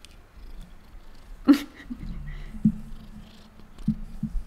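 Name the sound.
cat purring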